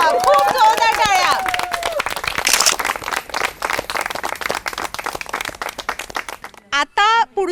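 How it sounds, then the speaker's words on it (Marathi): Loud applause and clapping from a crowd of women at a health event in India, rising after a game winner is announced, mixed with voices and babble before it breaks off near the end into someone speaking. "खूप जोरदार टाळ्या"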